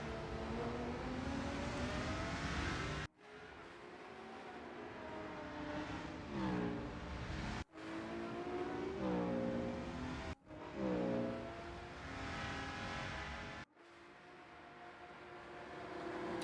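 GT3 race cars in the Rennsport racing game on the Orchard Road circuit pass side by side, engines roaring loud and steady, with several abrupt cuts and rising and falling whines as the cars go by.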